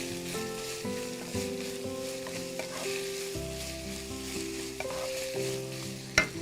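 Steady sizzling from chicken fried rice frying in a pan, with scraping stir strokes and occasional clanks of the utensil, a louder knock near the end, and tonal hum in the background.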